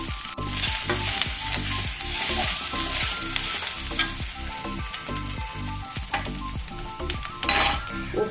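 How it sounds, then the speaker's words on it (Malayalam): Crushed coconut stir-fries in a pan for kozhuppa leaf thoran, giving a continuous sizzle broken by rhythmic scraping strokes of a spatula against the pan. The sound is close and busy, with no voices. "ചതച്ച് വെച്ച തേങ്ങ ഇട്ട് കൊടുക്കുക"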